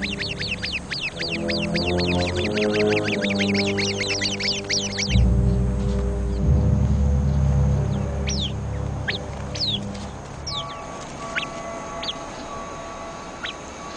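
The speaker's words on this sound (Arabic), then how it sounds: "يصدر العصفور المناوب الإنذار فورا" Sentry sparrow gives rapid, repeated sharp alarm calls close by as a snake appears, a dense burst of chirps followed by sparser high calls and tones over a low rumbling background.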